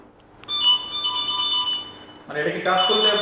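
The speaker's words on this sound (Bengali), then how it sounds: "আমি যদি আমাদের গাড়ির যে অ্যালার্মটা আছে সেটা যদি আমি আপনাকে শোনাই" The anti-theft alarm of a Yadea electric scooter sounds as a loud, steady electronic tone that shifts to a harsher, denser siren pattern partway through, close by with a voice talking over it.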